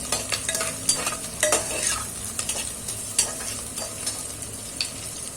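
Onion fries in a pan until reddish for dal khichdi, giving a constant close sizzle broken by repeated sharp scrapes and taps of a spoon stirring, with no talking.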